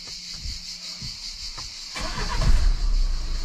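A Renault Clio 3 with the 1.5 dCi diesel engine is cranked with a few short starter bursts, then catches and settles into a loud, rough diesel clatter nearby.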